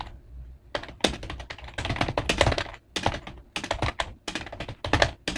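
Rapid, close typing on an old-style computer keyboard at a typing-test setup, with dense bursts of loud clacking keystrokes and brief pauses between runs.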